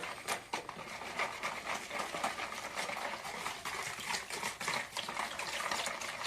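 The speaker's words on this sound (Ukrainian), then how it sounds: "неповна склянка 100 грам води сюди" About 100 grams of water pours and sloshes into a bowl of lactose-free crepe batter in a steady close stream, with faint stirring clinks mixed in and no talking.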